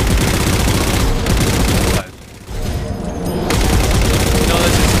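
Rapid Halo 4 gunfire rattles loudly in dense bursts, pausing briefly near the middle before the shooting resumes just as heavily.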